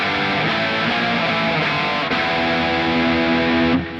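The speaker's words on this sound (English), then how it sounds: "let's try it out with some distortion" A Fender Player Plus Stratocaster electric guitar played through a high-gain distorted tone, sustained crunchy chords ringing continuously and evenly, then cutting off abruptly just before the end.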